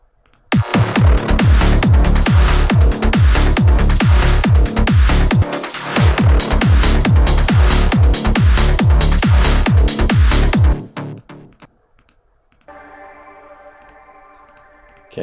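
Electronic track stem of short bass, subs, mid sequences and percussion, punchy repeating low bass hits under busy ticking sequenced mids for about ten seconds, then dropping out to a faint, thin synth tail.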